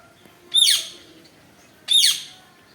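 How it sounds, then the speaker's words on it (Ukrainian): Two loud, harsh parrot screeches about a second apart, each a sharp rasping squawk over quiet background. "Це попугай кричить."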